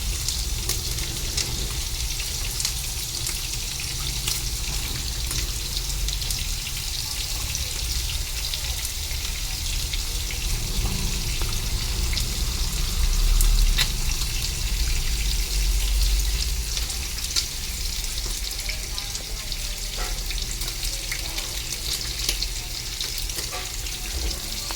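Sponge gourd (patola) frying in a pan, a loud steady sizzle that holds for the whole stretch with occasional soft stirring, no voices over it.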